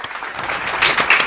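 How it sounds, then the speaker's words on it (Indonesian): Brief burst of applause from podcast guests and hosts, a dense patter of clapping that swells toward the end, close and fairly loud. "Tepuk tangan teman-teman, tepuk tangan"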